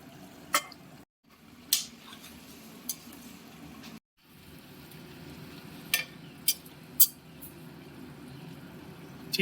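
A spatula stirs fried hilsa fish head into spinach curry in a pan, giving a quiet sizzle with a few sharp scrapes and clinks against the metal, spaced irregularly and briefly cut by silence.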